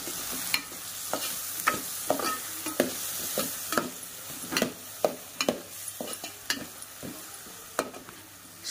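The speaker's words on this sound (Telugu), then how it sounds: "కలర్ మారేదాకా వేయించుకోవాలి" Chili powder fries in oil for an ivy gourd and onion rice dish, a soft continuous sizzle broken by a regular series of sharp spatula scrapes and taps against the pan, close and alone.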